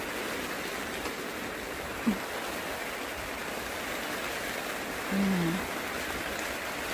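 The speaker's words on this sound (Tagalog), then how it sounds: "Nag-ulan sa labas." Rain falls steadily outside a tent at a campsite, a dense, even hiss of drops on the fabric. There is a brief thump partway through, and a faint low murmur comes later.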